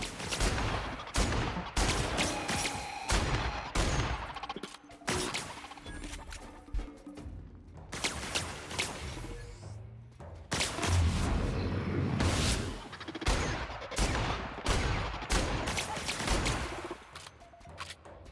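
Gunfire from a weapon in a video game: dense, rapid bursts of shots and crashing impacts that come in clusters with short gaps, loud and close throughout.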